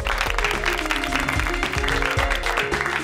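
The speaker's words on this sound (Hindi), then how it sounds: "तालियां!" Children at a race competition applaud, steady clapping close and loud with music tones running beneath it for the whole stretch.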